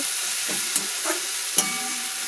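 Jute leaves fry in rohu fish oil in a pan, a constant close sizzle broken by a few sharp scraping stirs.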